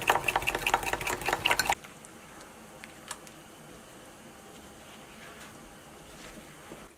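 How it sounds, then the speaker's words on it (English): A whisk beats heavy cream and flour together in a bowl for a mushroom cream sauce in a cabin kitchen: a quick, dense run of rhythmic scraping strokes for under two seconds, then near silence. "I'm going to add a little flour to it, whisk it together"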